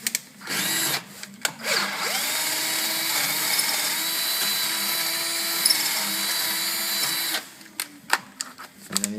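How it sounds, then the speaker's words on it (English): A power drill with a lubricated bit bores out a damaged thread hole in a 1997 Dakota steering knuckle caliper mount, running in one steady high whine for several seconds between brief starts and stops. "So you start your drill bit out and you lubricate it. And you drill out the hole."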